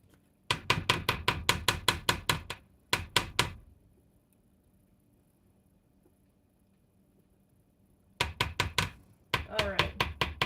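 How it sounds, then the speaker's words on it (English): A spatula works around the sides of a mixing bowl of pumpkin brownie batter, giving quick, evenly spaced scraping strokes in two close, loud bursts, then a quiet pause before another run of strokes. "We're just gonna scrape down the sides of my bowl"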